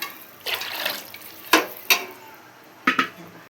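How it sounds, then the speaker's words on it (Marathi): Water splashes and pours into a pot in short bursts, with a few sharper splashy pulses in between; close and moderately loud, no talking. "आपल्याला पाणी थोडं जास्त टाकायचं आहे"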